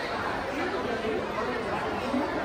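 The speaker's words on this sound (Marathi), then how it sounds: "एवढी गर्दी आहे का तिरुपती स्टेशनला" Dense crowd chatter fills a packed Tirupati railway station, a continuous wash of many overlapping voices at a steady level with no single speaker standing out.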